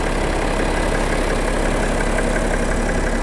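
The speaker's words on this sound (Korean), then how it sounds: "엔진 소리 일정합니다." Close up in the engine bay, a BMW 6 Series (F12) 640d xDrive diesel engine idles with a constant, dense mechanical rumble and light ticking, unchanging throughout, no voices.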